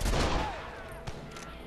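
A gun fires at a mine wall in the video game Red Dead Redemption, a single loud burst of gunfire that rings out and slowly decays over a second and a half.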